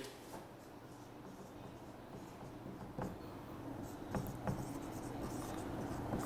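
Writing a word on a board: a quiet, continuous scratchy rubbing of the tip moving across the surface, with a few sharper taps of strokes, close and fairly faint against room noise.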